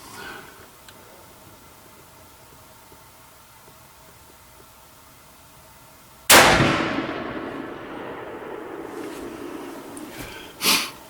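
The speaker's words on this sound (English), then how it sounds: "I'm probably just wasting a few shots here." A single sharp Ruger rifle shot cracks out loud and close after several seconds of quiet outdoor background, its report decaying for a few seconds, followed by a fainter brief bang near the end.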